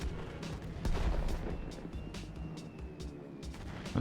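A holy grenade explosion in the golf game Golf with Friends, a loud booming blast with dense rumbling low end over a continuous game soundscape, with several sharp impacts following.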